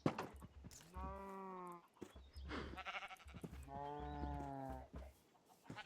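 Sheep bleat twice in the RLCraft Minecraft game, two drawn-out wavering calls close up, with brief game noises between them.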